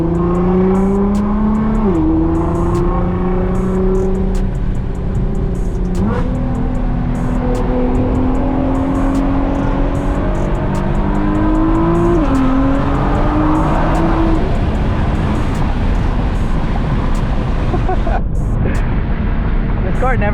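A Nissan GTR with loud exhaust accelerates hard on a canyon road, engine note climbing through several gear changes with drops between shifts, loud and close from inside the car, with talking over it.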